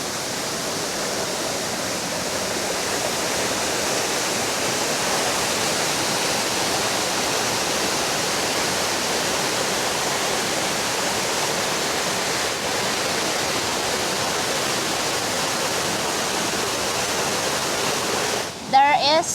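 Tall waterfall in Puerto Rico surrounded by rocks, a steady, full rushing roar of falling water, close and constant throughout, with a brief handling noise at the very end.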